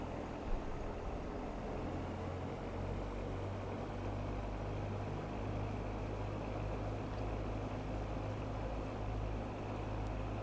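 A Just Flight DR400 light propeller aircraft idles in the X-Plane 11 flight simulator, giving a steady low engine drone with a constant hum that holds evenly throughout, with no talking.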